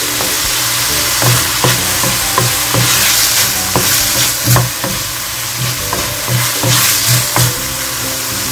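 Corn being sautéed and stirred in a hot pan for bell pepper stuffing: a loud, continuous sizzle punctuated by regular scraping strokes of a spatula, with no talking.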